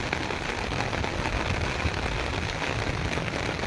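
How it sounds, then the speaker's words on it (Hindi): Heavy rain pouring in Taunsa Sharif, a dense, constant hiss of falling water drumming on surfaces, loud and close with no pauses. "ये बदरा दे एंड ते हुण बारिश थींदी पई है।"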